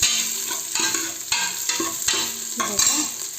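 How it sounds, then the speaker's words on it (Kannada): Onion and garlic fry in a pan, sizzling loudly at close range while a spoon stirs and scrapes in regular strokes, roughly one every half second, with no talking. "ಇವಾಗ ಈರುಳ್ಳಿ ಬೆಳ್ಳುಳ್ಳಿ ಎಲ್ಲನೂ ಫ್ರೈ ಮಾಡೋಣ ಚೆನ್ನಾಗಿ"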